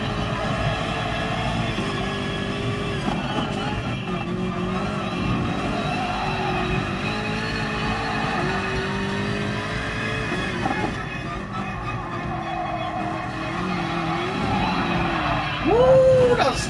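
A car in a PS4 racing game spinning out during a drift session: a sustained engine whine with wavering, shifting pitch, ending in a short, louder squealing sweep as the car loses grip.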